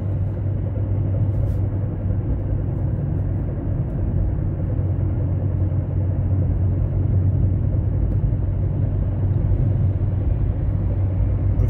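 Opel Astra J 1.3 CDTI running in fifth gear with a suspected gearbox fault, heard as a steady low rumbling drone that holds constant and fairly loud for over ten seconds, with no talk.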